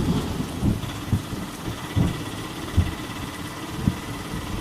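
Rain falls steadily in a cartoon ghost-story scene, while low rumbling thunder-like bursts roll in at regular intervals over about four seconds, with no voices.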